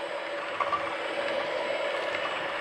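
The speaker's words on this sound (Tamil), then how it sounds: "இப்போ வெண்ணிலா எசன்ஸ் போட்டு அடித்தாச்சு." Eggless cake batter with vanilla essence is whisked mechanically in a bowl, producing a fast, steady rattling whir at moderate volume with no talk over it.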